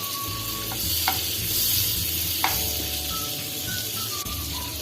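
A cube of butter with a little oil melts and sizzles in a pan, a steady close hiss with faint clinks and brief tonal chirps over it, no voices.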